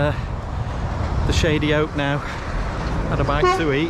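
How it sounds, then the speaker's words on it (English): Steady roadway traffic noise rumbles throughout while someone talks over it. "Sorry about the traffic noise."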